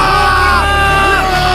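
An audience at a competition cheers and yells loudly in a dense, sustained roar of many voices, with high whoops rising and falling throughout.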